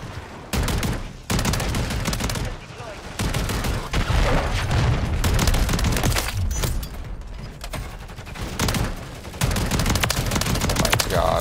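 Heavy shotgun fire in Modern Warfare 3, a Riveter with fire rounds, giving dense bursts of loud booming blasts in rapid succession with brief gaps between volleys over a busy game mix.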